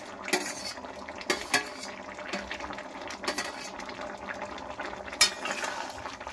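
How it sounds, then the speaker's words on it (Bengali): A spoon scrapes and clinks in a pan, stirring fried fish head into a pumpkin and potato curry, with a few sharp knocks over a soft steady sizzle. "এবারে নাড়াচাড়া দিয়ে নিচ্ছি।"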